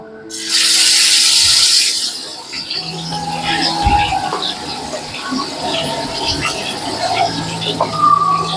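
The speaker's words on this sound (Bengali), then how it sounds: "এটা এবারে কড়াই দিয়ে আমি একটু হালকা করে ভেজে নেব" Prawns rubbed with salt and turmeric fry lightly in mustard oil in a wok, opening with a loud burst of hissing sizzle that settles into a softer, continuous crackle with faint background sounds.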